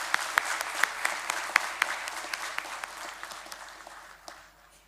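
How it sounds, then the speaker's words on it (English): Students and parents at a university ceremony clap in a broad round of applause, with sharp individual claps standing out over the crowd, gradually thinning and fading toward the end. "please give a big round of applause to yourself"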